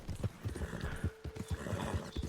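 A Nakota horse ridden in Red Dead Redemption 2, with rhythmic hoof clip-clops at a steady gait, close and clear, and a brief neigh partway through.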